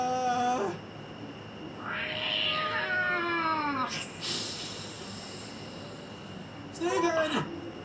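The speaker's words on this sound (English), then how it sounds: "There's a mountain lion out here!" A mountain lion in the video game Jenny LeClue lets out drawn-out yowling growls and snarls, several loud cat-like calls separated by pauses over a steady background hum.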